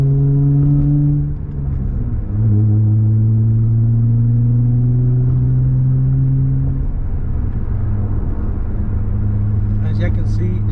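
A straight-piped Acura TL cruising on the highway, heard from inside with the windows up: a steady low exhaust drone and road rumble, its pitch rising and falling slightly, with a faint higher whine near the end.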